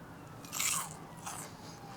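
Crispy fried calamari dipped in sriracha mayo is bitten into, giving a close, loud crunch followed by a second softer crunching bite, with no talking.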